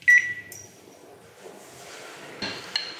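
A sharp electronic beep from a microwave, followed by a second beep, then a low hum as the oven starts a 30-second grill cycle, with a clunk near the end.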